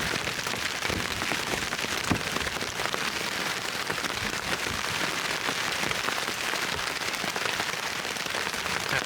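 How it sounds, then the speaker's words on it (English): Heavy rain drums steadily on a cramped shelter at a wild bushcraft camp in Galloway, a dense, continuous patter close overhead with scattered sharper drops and no talking. "Even on a rainy day like this,"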